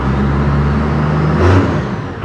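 Cummins 12-valve diesel truck engine fitted with a custom exhaust stack, revving up from idle with a steady low drone that swells briefly in the middle, close and loud with no talking.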